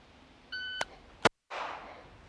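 A handgun shooting drill with a shot timer. A steady electronic start beep sounds, then a single sharp, loud report follows, then brief silence and a burst of echoing noise.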